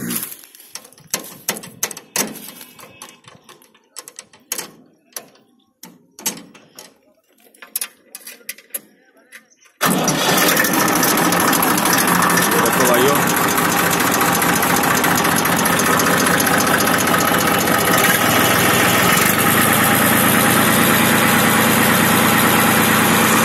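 A 2006 Massey Ferguson 241 tractor is started after some quiet clicks and handling noises, then its diesel engine settles into a loud, steady, close idle that continues to the end.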